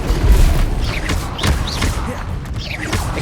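Spell combat in the video game Hogwarts Legacy: the Expelliarmus cast brings loud booming blasts and whooshing magical effects with rising chirps, dense and continuous, with a voiced incantation mixed in.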